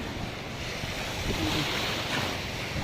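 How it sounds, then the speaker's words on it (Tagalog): Ocean waves break steadily along the sea at Lagonoy, a continuous rushing surf with wind buffeting the microphone. "Bounce ng alon mga kamanoy."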